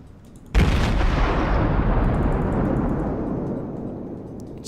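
A Des Moines cruiser's guns fire in World of Warships: one sudden loud boom about half a second in, followed by a long rumbling decay that fades slowly over several seconds.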